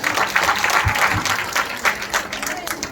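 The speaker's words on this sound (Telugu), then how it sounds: "మనం గట్టిగా చప్పట్లు కొడదాం" A church congregation claps together during a Good Friday Lent Mass at Kondapavuluru church, a steady, dense wash of applause filling the whole stretch, with some voices mixed in.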